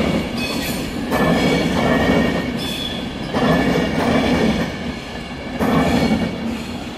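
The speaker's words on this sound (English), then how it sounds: "now departing is going to be a Virgin Pendolino for somewhere" Virgin Pendolino class 390 electric train departing London Euston on the West Coast Main Line, a loud continuous rumble of rolling wheels with rhythmic surges as carriages pass close by, no talking.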